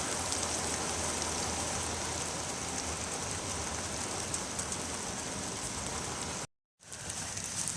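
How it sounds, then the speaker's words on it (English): Steady rain pours in a farming video game, a dense, even hiss that continues unbroken before a brief dropout and then resumes. "It's raining, it's raining."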